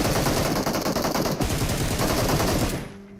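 Rapid automatic gunfire from the mobile battle royale game PUBG Mobile, sustained dense bursts at close range filling almost the entire stretch before cutting off abruptly near the end.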